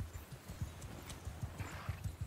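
Cavalry horses gallop across a battlefield in the Mount & Blade 2: Bannerlord video game, a rapid, steady drumming of hoofbeats at close range with a brief whinny.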